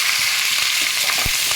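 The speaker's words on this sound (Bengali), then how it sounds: "এবারে আমি লঙ্কাগুলো দিয়ে দিচ্ছি।" Green chillies hitting hot oil with cumin seeds in a kadai give a steady, close, bright sizzle throughout, with a few soft bumps from the pan.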